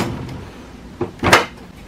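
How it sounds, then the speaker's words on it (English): A plastic ink access door on an HP Smart Tank 7602 printer swings shut, a soft thump followed by a sharper closing clack, close and brief in a quiet room. "Close the ink access or cartridge access door."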